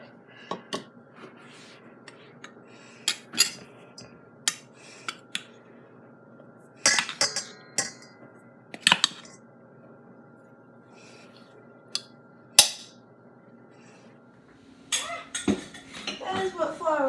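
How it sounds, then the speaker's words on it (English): Shortbread ingredients being stirred together in a bowl, heard as intermittent clinks and scrapes of a utensil against the dish, some in quick bursts and others isolated, with quiet pauses in between and no talk. "mix together all the ingredients"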